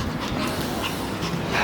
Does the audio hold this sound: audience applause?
no